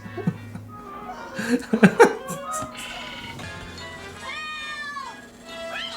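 Cartoon cats in the film Chip 'n Dale: Rescue Rangers: several meows and yowls rising and falling over a few seconds, mixed with chuckling and laughter, fairly close and clear.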